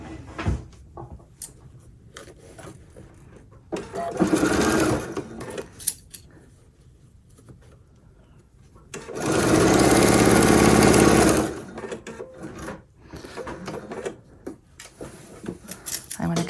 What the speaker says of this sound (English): I am going to stitch right down there to secure it